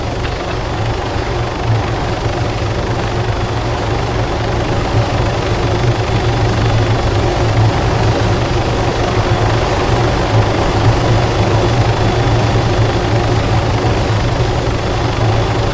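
Video game helicopter rotors thump and whine steadily throughout, a loud, continuous engine drone that never lets up.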